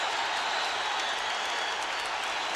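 A boxing arena crowd roars and applauds at the bell ending a heavyweight round between Evander Holyfield and George Foreman, a dense, steady wash of cheering and clapping throughout.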